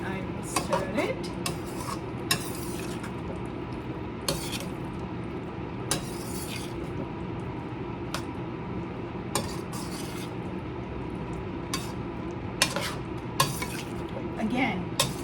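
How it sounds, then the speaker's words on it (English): A spoon stirring Chicken Mughlai Handi curry with dry fenugreek leaves in a pot, repeated scraping and clinking strokes over a low steady simmer, close and moderately loud. "I will mix it and then I will stir it"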